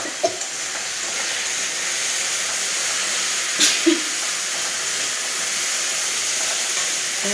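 Potato pieces frying with turmeric in a pan, a continuous even sizzle with a couple of brief spoon knocks near the start and middle, no talk.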